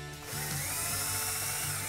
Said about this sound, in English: And I'll pre-drill.